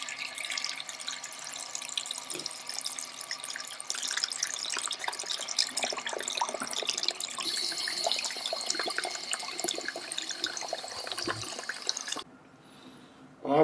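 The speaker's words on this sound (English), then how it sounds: "Then we just directly go to wash it in the water." Something being washed by hand in a sink of water, with continuous splashing, sloshing and trickling close by for most of the clip before it abruptly drops to a quieter background.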